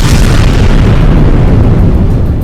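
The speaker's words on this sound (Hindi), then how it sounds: "ताबड़तोड़ हमलों की वजह से वहां तेज धमाके होते दिखाई दिए" Turkish missile strikes hitting Kurdish fighters in the Qandil area of northern Iraq, a continuous loud, rumbling roar of explosions that fills the whole moment without a break.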